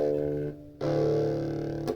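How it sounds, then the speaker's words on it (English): A 5W mini plug-in guitar amp is overloaded with too much signal: two distorted, buzzy sustained notes separated by a brief drop, no talking. "we get that distortion when we just give it too much signal"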